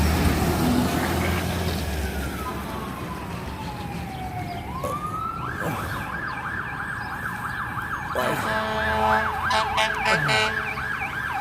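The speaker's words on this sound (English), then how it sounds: "and even in the hometown, we still have our sirens." An emergency vehicle siren wails through a small American hometown, one long falling sweep sliding down before rising into a steady tone that switches to rapid warbling yelps, moderately close over traffic noise.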